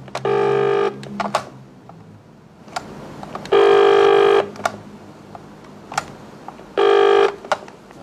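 Three long, loud telephone tones sound at spaced intervals, separated by quieter stretches with faint clicks and ticks, close and clear with no talking.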